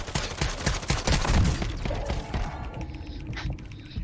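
Gunfire in Warzone 2.0, a dense rapid fusillade of overlapping shots that is loudest in the first half, then thins to scattered, fainter reports and mechanical clicks.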